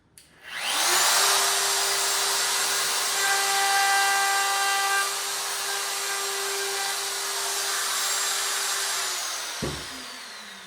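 A power sander with 80 grit paper whines steadily on a wooden stair scroll transition in an 1884 house renovation, loud and close, running for about nine seconds before cutting off, with no talk.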